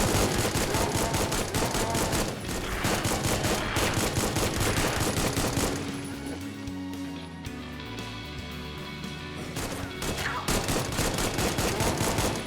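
Heavy sustained gunfire from a GZDoom-based indie shooter, dense rapid volleys that briefly thin out mid-way before the loud barrage resumes, with game music underneath.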